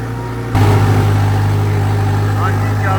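Two tractors ploughing a field, one pulling a 15-tine plough and the other a 17-tine plough. Nearly silent for half a second, then a loud, steady engine drone kicks in and runs on unbroken.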